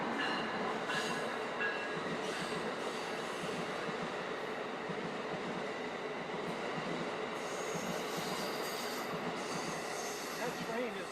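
An Amtrak or Metro-North train rumbles steadily along the tracks at West Haven station for the whole stretch, with broadband rattling and faint metallic squeals, fairly loud and continuous.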